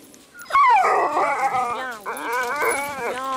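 Sled dogs whimpering and whining while being brushed during grooming, a string of high, wavering cries close by, continuous for a few seconds with short breaks.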